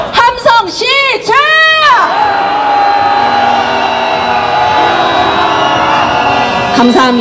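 Protesters at a street march through Itaewon shout and cheer together, a loud rising roar of voices with whoops at the start that settles into sustained crowd noise and chanting.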